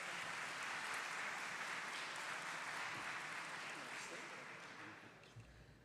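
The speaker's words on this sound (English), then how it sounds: "A big round of applause for our speaker." A seminar audience applauds the speaker at a corporate tax talk, a steady, faint wash of many hands clapping that fades slightly toward the end.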